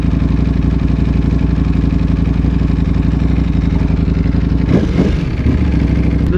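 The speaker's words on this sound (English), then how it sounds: "Let's get a couple more laps on this Panigale V4." A Ducati Panigale V4 motorcycle in Race B ride mode drones loudly and steadily while riding laps, with a brief shift in engine note near the end.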